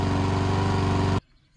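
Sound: petrol lawn mower engine running

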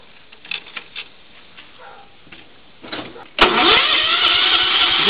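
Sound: John Deere lawn tractor engine starting and running

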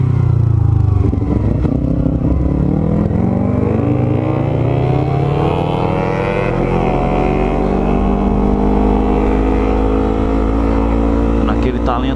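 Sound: Yamaha MT-03 motorcycle engine revving and accelerating

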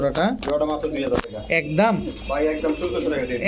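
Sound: pigeon cooing

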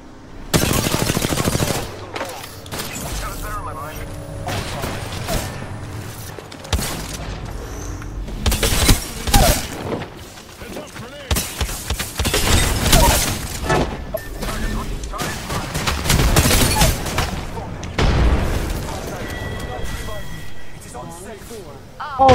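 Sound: shotgun gunfire in a video game

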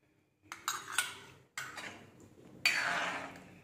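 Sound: stirring drumstick curry in a pan

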